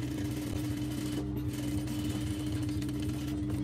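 Sewing machine running a hem on a kandurah, a steady rapid needle chatter with a low motor hum, close-up and continuous for the whole stretch with no pauses or voices.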